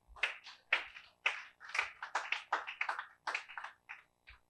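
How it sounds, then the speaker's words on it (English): Audience applause for a facilitator at a high-performance computing training session, heard as a burst of clustered claps in uneven waves that fades out after a few seconds, with no talk over it. "Let's give a round of applause to our facilitator again"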